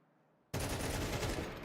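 A sudden loud burst of gunfire in an esports match of a tactical shooter, breaking out of near silence into a sustained close rattle of rapid shots.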